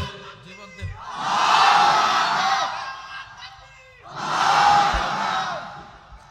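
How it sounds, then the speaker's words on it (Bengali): A large crowd at a religious gathering shouts takbir loudly in two swelling roars. Each roar lasts a couple of seconds, with a preacher's voice leading between them. "খুব জোরে তাকবীর দাও, আকাশ পর্যন্ত কাঁপিয়ে দাও"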